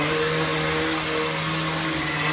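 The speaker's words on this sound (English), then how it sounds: "It got a bit paint splattered, so I'll give it a quick sand down" A power sander works steadily over a paint-splattered workbench during a narrowboat fit-out, a loud, unbroken whirring drone with a constant hum throughout.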